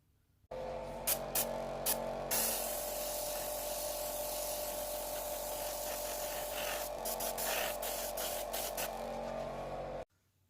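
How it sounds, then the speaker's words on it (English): An airbrush sprays Vallejo chipping medium thinned with about 30% acrylic thinner onto a scale model, a steady close hiss of air and fine spray running for nearly ten seconds with a few short pulses near the start and end. "I've got some of the chipping medium now in the airbrush."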